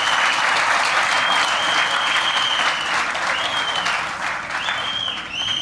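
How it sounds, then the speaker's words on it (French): Loud, sustained applause from a large crowd at a UDPS party congress, steady clapping throughout with a slight dip near the end and some voices mixed in. "Il faut applaudir très fort."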